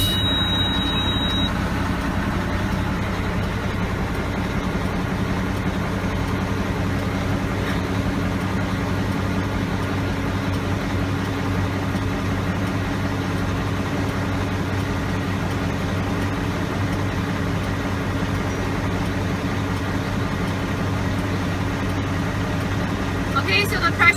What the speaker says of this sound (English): you need to start the engine and build up the pressure